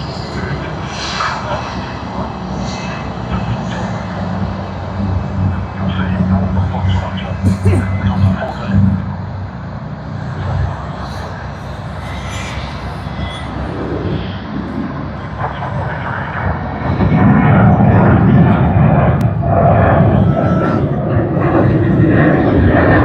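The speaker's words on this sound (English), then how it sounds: "We should be getting the takeoff of Sydney to Adelaide shortly." Airliner engines roaring during takeoff at Sydney Airport on a Sydney to Adelaide service, a steady distant jet rumble that swells louder near the end, with some voices present.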